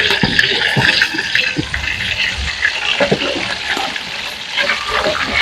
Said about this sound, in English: now you are free to use your iron spoon to pat the fish out of the oil